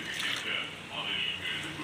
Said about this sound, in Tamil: தேங்காய் பால் முதல்ல அளந்து ஊற்றிக்கலாம்.